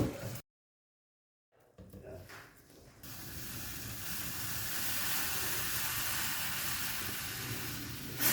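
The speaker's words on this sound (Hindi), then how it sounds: "बस यहाँ पर चाय में अच्छा सा कलर आने तक और चाय पक जाए इतनी देर तक हमने पकाना है" Masala chai with chai masala powder and sugar simmering in a pot on the stove, a brief dropout, then a steady, fairly loud bubbling hiss that holds to the end.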